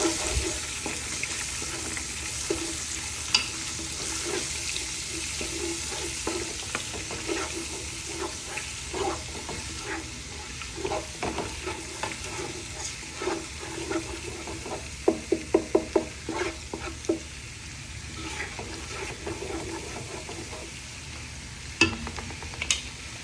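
Ginger garlic paste roasting in a pan for Telangana-style Thalapakatti mutton biryani, a steady close sizzle and frying hiss running throughout, broken by scattered clinks and scrapes of a stirring spoon, with a quick run of sharp taps midway.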